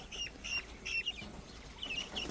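Guinea fowl chicks on a farm give high, thin peeping chirps in short clustered bursts, fairly faint, with pauses between calls and no talking.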